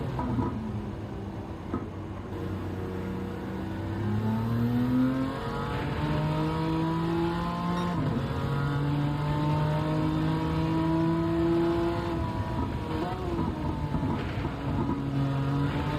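Onboard a BMW race car, its engine revs and climbs through the gears with rising, falling tones, loud and steady throughout with no voices.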